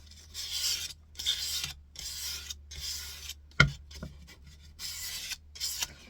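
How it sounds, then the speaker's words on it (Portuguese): Repeated back-and-forth strokes of 220-grit sandpaper on MDF, a close, soft rasp in regular bursts with brief pauses and one sharp tap midway, no talking. "Isso aqui é uma lixa 220 que eu tô passando."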